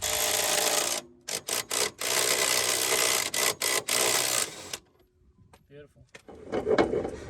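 A 24mm shock absorber bolt on a Ford Falcon coilover install is turned out with a long socket, giving loud, close rasping ratchet bursts broken by short pauses, then quieter clicks and a brief voice near the end.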